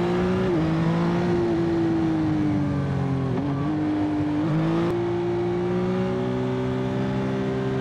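Yamaha XSR 900 (2025) motorcycle engine under way while riding, a loud steady drone that rises and dips in pitch with throttle changes and quick-shifted gear changes, continuous and close throughout.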